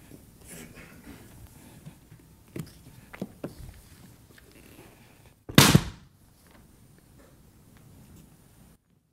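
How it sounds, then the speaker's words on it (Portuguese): A stage gunshot in a live theatre play, one sharp loud bang standing alone after a quiet, rustling stretch, with faint room noise before and after. "O tiro."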